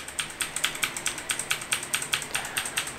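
The delete key on a computer keyboard pressed over and over, a fast, steady run of close, crisp clicks at about five taps per second, alone with no talking.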